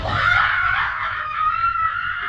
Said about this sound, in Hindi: फिर अचानक एक जोरदार चीख